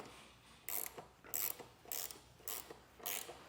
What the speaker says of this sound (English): Now we're going to come back here and tighten up this M8 bolt up top.